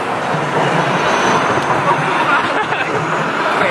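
A tram arrives at a street stop, a loud sustained rumble of wheels and motor filling the scene with dense, steady noise and faint background chatter.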